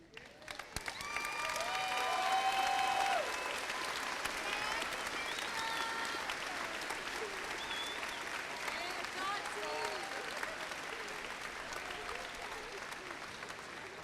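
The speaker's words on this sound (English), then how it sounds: "So a round of applause for them for being here." A crowd at the Interboro Class of 2017 high school commencement applauds the teachers, the clapping swelling in the first seconds and then holding as a broad, sustained wash of applause from a large audience.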